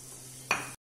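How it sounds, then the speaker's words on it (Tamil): Onions sauté in a pan, a short burst of sizzling and stirring close by that cuts off abruptly, with no talk. "வெங்காயம் நல்லா வதங்கிருச்சு."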